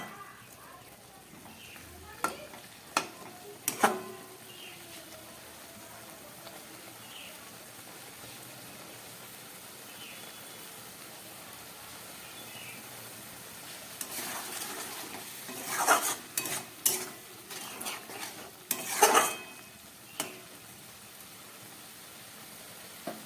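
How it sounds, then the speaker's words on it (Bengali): A spiced Bengali fish kosha of ritha or tangra fish with potatoes is stirred and fried in a pan over medium-high gas: a faint low sizzle with sporadic scraping clatters that bunch together toward the end. "গ্যাসটাকে মিডিয়াম হাইতে দিয়ে এবার এটাকে অনেকক্ষণ ধরে কষাবো।"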